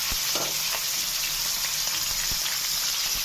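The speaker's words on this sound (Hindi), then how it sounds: "इसको हम फ्राई करेंगे जब तक ये बिल्कुल सफेद ना हो जाए।" Half a kilo of boneless chicken fries in hot oil with a dense, continuous sizzle and a few sharper pops and stirring knocks, close and fairly loud with no talking.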